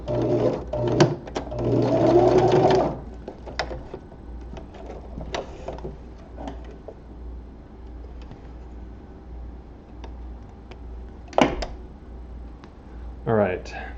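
A sewing machine stitches spandex gloves in a short steady whir at the start. Scattered clicks, handling noises and a low hum follow, with one more brief mechanical burst near the end.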